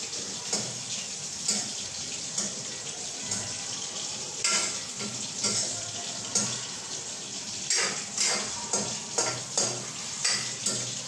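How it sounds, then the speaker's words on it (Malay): Vegetables cook loudly in a wok, a steady broadband sizzle with stirring and scraping bursts throughout, close and fairly strong with no voices. "Biasanya kalau kita letak sayur dalam kuali, kalau belum masak dia memang bunyi kuat."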